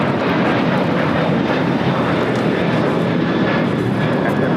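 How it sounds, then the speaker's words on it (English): A United Airlines Boeing 737-800 in Star Alliance livery takes off at LAX, a loud, steady broadband engine roar with a deep rumble that holds for several seconds, without speech. "797 taking off to Los Cabos on a 737-800 Star Alliance livery"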